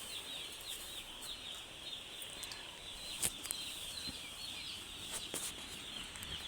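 Chicks at a farm give thin, high peeps and soft clucks against a steady background hiss, with a few sharper chirps standing out near the middle and toward the end.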